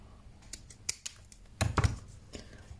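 Scissors cut through paper for a deckle-edged art journal, giving a few short, close snips and a louder crisp cluster of cuts near the end.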